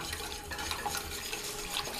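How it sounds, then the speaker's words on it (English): Liquid poured into a pot and whisked while making pot roast gravy, a soft continuous watery swish with faint scraping and stirring clinks, fairly quiet and without speech. "Now this is where you just pour a little and whisk."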